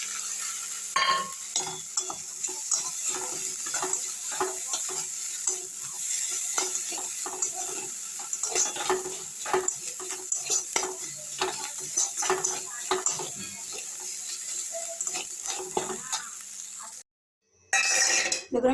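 Ginger paste goes into a hot pan for a raw green banana chop recipe and sizzles steadily while a utensil stirs and clinks against the metal, with a brief cut near the end.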